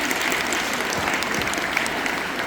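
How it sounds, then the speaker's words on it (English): School students clapping together in a classroom gathering, a steady dense burst of applause from a group, close and loud throughout. "Clap yourselves, everybody."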